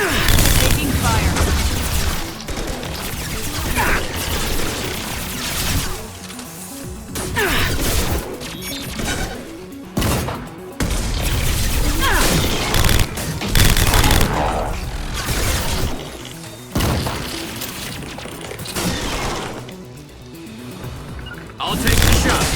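Guns fire in a chaotic firefight in the Mass Effect 2 video game, with dense bursts of shots, crashes and impacts pounding in waves, and voices calling out over the din.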